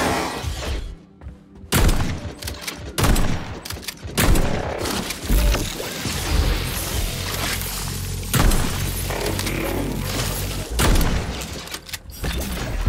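Heavy gunfire in the video game Atomic Heart during a boss fight against Hog-7 Hedgie, with bursts of loud shots, booms and shattering impacts layered over game music and mechanical clatter.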